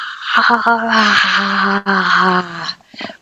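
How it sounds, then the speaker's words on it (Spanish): A big open-mouthed yawn from a woman, a voice coach and professional singer, drawn out as a long, loud voiced sigh with a breathy gasping start, close and alone, trailing off into a brief breathy tail. "lo que vamos a hacer es un buen bostezo con la boca bien abierta"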